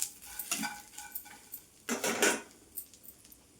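Fried peanuts, cashews and curry leaves being stirred into an ivy gourd and okra fry in a pan, with scraping and clattering strokes in bursts over a soft background sizzle.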